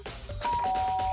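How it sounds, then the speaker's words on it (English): Doorbell chime in the Danganronpa video game, a sustained two-tone electronic ding-dong ringing out loud and clear against a faint low background hum, with no talking. "I pressed the doorbell."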